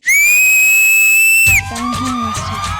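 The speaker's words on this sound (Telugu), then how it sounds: "విజిల్ ఇస్తా" A person gives a loud, piercing whistle at a dance show stage, held steadily for about a second and a half, then breaking off as busier music-like sound takes over.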